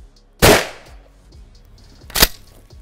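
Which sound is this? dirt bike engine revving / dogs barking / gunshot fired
gunshot fired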